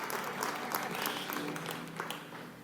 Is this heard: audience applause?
yes